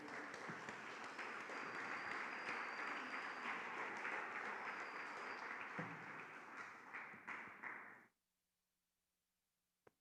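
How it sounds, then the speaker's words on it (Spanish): A church congregation claps in a long, full round of applause that holds steady, then thins and cuts off abruptly near the end, leaving quiet with a single faint tap. "Denle un aplauso al Señor."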